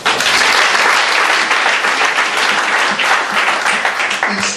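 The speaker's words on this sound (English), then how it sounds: "Clap for Jesus." A church congregation claps loudly together for Jesus during a deliverance service, a thick, close roar of many hands with faint shouts mixed in, fading slightly toward the end.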